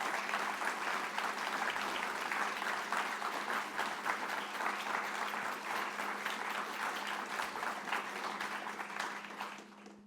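Sustained applause from an audience thanking a discussion panel at a peace initiative event in a hall, dense and steady clapping for about ten seconds before tapering off at the end.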